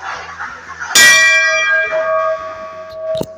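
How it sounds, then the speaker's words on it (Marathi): A metal bell at a Datta Maharaj temple in Kinkheda is struck loudly once and rings on with a long shimmering decay, then a second quick clang is heard near the end. "घंटा आहे."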